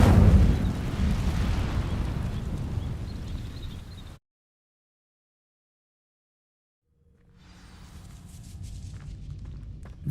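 A burst of fire erupts from an Incendio spell setting dry vines alight in Hogwarts Legacy, a loud roaring whoosh that fades out, then falls silent before a low rumbling crackle slowly rises again.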